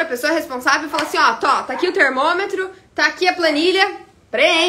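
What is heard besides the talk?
No everyday noise stands out behind the speech.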